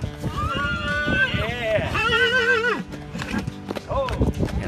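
Hoofbeats of a saddled horse on a long trail ride through hills, clip-clopping steadily under loud music with a soaring melody, and a horse whinnies.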